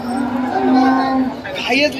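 At a cattle market in Dhule, India, a single long, low cow moo sounds close up, drawn out and sliding upward at the end.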